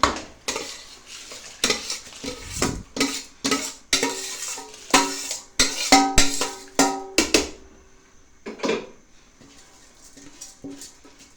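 Scattered clinks and scrapes of a utensil against a metal pot as rice is stirred in for dal chawal, with a soft sizzle underneath and no speech.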